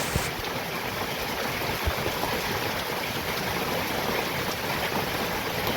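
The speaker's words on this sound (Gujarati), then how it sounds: "જો ત્યાં પણ પાણી હમાતું ને એટલું બધું નીકળે છે" Water gushes out of a drainage pipe in a village, a dense, steady rushing flow that is loud and close and continues without a break. No one speaks over it.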